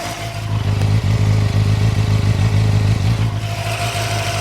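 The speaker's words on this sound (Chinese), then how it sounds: "听一下它的怠速声音啊" A new KOVE 450RR motorcycle idles close by, its single engine note a steady, even low rumble with a light mechanical clatter and no revving, heard alone without talk.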